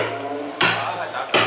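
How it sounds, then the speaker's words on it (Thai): Powder being pounded into a bamboo firework rocket by Tai villagers near Kengtung, Myanmar: two sharp, loud thuds about three quarters of a second apart over a low, steady background hum. "ตอนนี้กำลังจะตอกอีกหนึ่งบ้างนะจะตอกอีกหนึ่งบอก"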